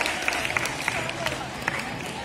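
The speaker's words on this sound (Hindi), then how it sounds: "जोरदार तालियां सिमरन के लिए।" An audience at a school prize-giving applauds the winner of a mehndi (henna) competition, with scattered clapping and crowd murmur under a continuous voice talking.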